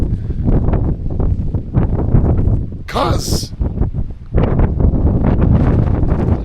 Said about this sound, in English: And it's full windy.